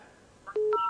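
Touch-tone telephone dialing during a Thai radio call-in show: a short blip, then two clear dial tones in quick succession, close and distinct against quiet background noise.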